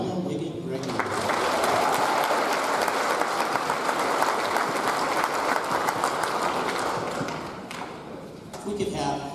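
Sustained applause from an audience at an 8th grade graduation ceremony, steady and fairly loud for about eight seconds before tapering off, with a few scattered claps at the end.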